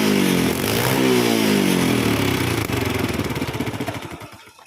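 A Honda Prima motorcycle engine, just fitted with a new CDI spool after a hard-starting fault, runs loud and close with a rough mechanical roar, then slows into a pulsing, fading idle.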